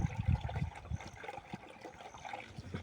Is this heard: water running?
yes